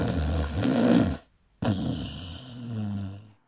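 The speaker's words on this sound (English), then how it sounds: "We call that snore Godzilla." A person snores loudly and roughly, a long rumbling growl-like inhale, a short silent pause, then another deep rasping snore, close and without talk.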